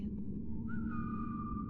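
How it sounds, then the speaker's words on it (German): A dark figure whistling in the VRChat game Backspace, a single faint rising whistled tone that steadies and holds, over a low ambient rumble. "Schwarzer Mann, der gepfiffen hat."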